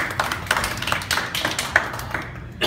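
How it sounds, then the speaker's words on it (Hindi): Applause from an audience at a Toastmasters-style club meeting, a steady patter of hand claps running throughout, moderately close and without talk over it. "एक बार आसिफ साहब के लिए जोरदार तालियां"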